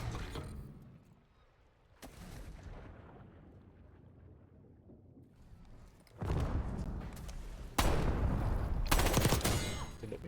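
Gunfire in a shooter video game with a TR2 conversion kit: a quiet stretch with a distant low rumble, then heavy close bursts of rapid automatic fire, loud and booming, near the end.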